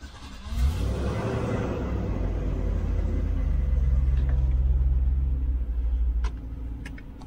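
A 1993 Range Rover LSE with EAS air suspension, refitted after repair, hums with a steady low mechanical drone close by; the compressor runs continuously for several seconds before a few faint clicks near the end.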